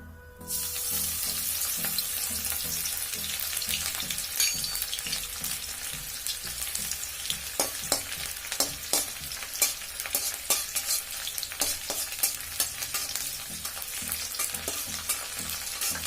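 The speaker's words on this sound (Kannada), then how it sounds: "ಈಗ ಎಣ್ಣೆ ಬಿಸಿ ಆಗಿದೆ. ಬನ್ನಿ ಈ ಹಸಿಮೆಣಸಿನಕಾಯಿ ಮತ್ತು ಬೆಳ್ಳುಳ್ಳಿ ಏನಿದೆ ಅದನ್ನು ಹಾಕೋಣ ಇದರಲ್ಲಿ." Green chilies and garlic fry in hot oil in a pan for a Manchurian-style dish, a loud, steady sizzle broken by frequent sharp spatula clinks and scrapes as they are stirred, with no talking.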